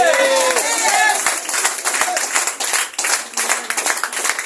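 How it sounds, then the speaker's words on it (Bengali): An audience at a health lecture on diabetes claps together, a brief burst of fairly close applause that follows a speaking voice and fades after a few seconds. "জোরে একটা হাততালি চাই।"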